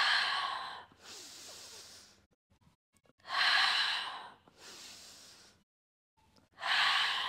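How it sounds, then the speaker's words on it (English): Slow, deep yoga breaths come in a steady cycle, each long airy inhale or exhale lasting about a second or two, separated by brief pauses, close and clear with no speech. "Inhale. Exhale."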